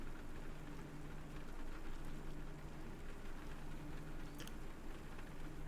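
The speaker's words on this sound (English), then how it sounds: "except for the patter of the rain on the window." Rain patters steadily on a window of a silent school building in the visual novel game Mahoyo, a soft, even wash of drops with a low hum beneath, no voices.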